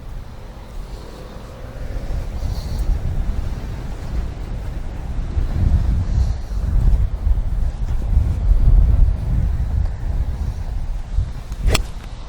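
Steady outdoor wind buffeting a microphone at a golf driving range, a loud low rumble that swells and eases in gusts, with one brief sharp click near the end.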